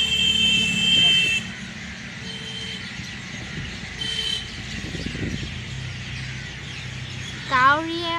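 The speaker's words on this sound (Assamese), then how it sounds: "কাউৰীয়ে মাত চাবনে, শালিকা চৰাই মাত চাবনে, একদম পুৰা চাউণ্ডটো মন কৰিছেনে?" Crows and myna birds call in the open air at dusk, intermittent chirps and caws heard faintly beneath steady traffic and street noise, with a louder rising call near the end.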